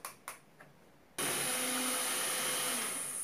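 An electric stand mixer starts up and beats cheesecake batter made with grated cheese, a steady loud whirring drone that runs on unbroken after a few soft knocks and clatters at the beginning.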